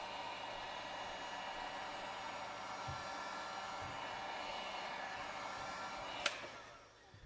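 A heat tool blows hot air onto stretched heat transfer vinyl, a steady faint whooshing hiss that runs unbroken, with a sharp click near the end before the airflow tails off.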